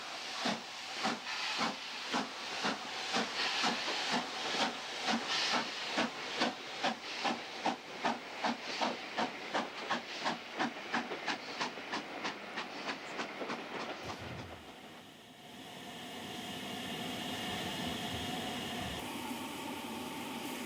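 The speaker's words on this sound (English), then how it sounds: "Here the loco is seen making its way to King's Cross at Haringey." An LMS Stanier Coronation class steam locomotive passes at Haringey on its way to King's Cross, with a rapid, loud rhythmic chuff that fades into a rolling hiss and clatter of carriages.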